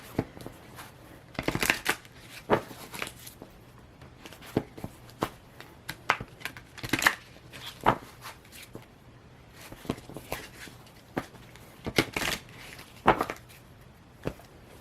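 Oracle cards being shuffled in repeated bursts of riffling and soft slapping, close up and fairly quiet, with short pauses between handfuls.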